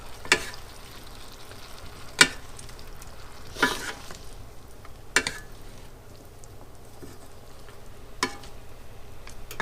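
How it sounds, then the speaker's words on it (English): Vegetables stir-frying in a pan for fried rice give a steady close sizzle, broken every couple of seconds by a sharp scrape or clack as the pan is tossed and stirred, with no talk. "Just keep tossing and turning until the vegetables start to cook."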